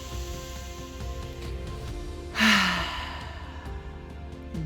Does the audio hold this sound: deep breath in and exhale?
yes